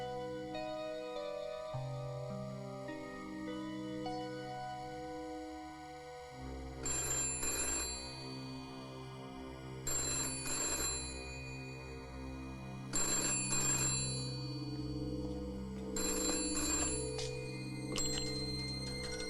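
A telephone rings in repeated bursts of electronic bell tones, several evenly spaced rings over a steady musical background, fairly loud and with no talk.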